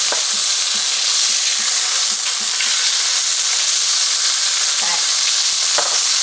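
Fried Oreos sizzle steadily in a pan just after being flipped, a dense continuous frying hiss up close with faint scraping and stirring taps.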